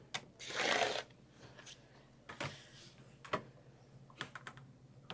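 Scissors or a rotary cutter slicing fabric units for a quilted bag, with a louder cutting rasp at the start followed by scattered soft clicks, rustles and handling noises, close and quiet.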